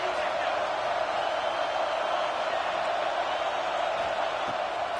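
A stadium crowd at a college football game against Arizona State keeps up a steady, even roar for several seconds, filling the background without distinct peaks.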